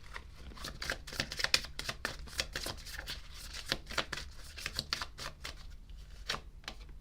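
Tarot cards are shuffled and handled in a steady run of crisp riffles, flicks and card slaps, close up and fairly quiet, with no talk.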